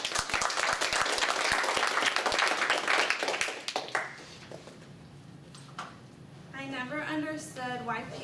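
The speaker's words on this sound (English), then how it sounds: "let's clap for Tori" An audience claps for a student after her demonstration speech on making baby food, the applause dense for about four seconds before fading into a room where a voice and tapping sounds follow.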